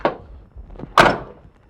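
Door of a Ford trailer truck swinging shut, a soft first knock followed by one solid, close thunk with a brief rattle as it latches.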